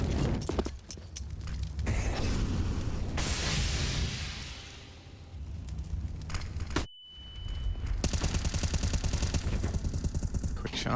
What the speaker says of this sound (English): Quick shots